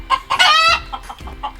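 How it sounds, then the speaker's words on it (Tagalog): Caged native chickens on a farm in Saudi Arabia, close and loud, with a burst of clucking and a short drawn-out squawk followed by softer scattered clucks. "Ang daming manok na nakakulong. Mga native na manok."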